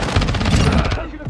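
Rapid automatic gunfire rattles in a loud, close burst in Call of Duty DMZ, about a dozen quick shots in steady rhythm before trailing off, with a voice speaking underneath.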